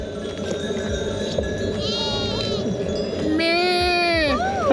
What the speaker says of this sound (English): So many sheep.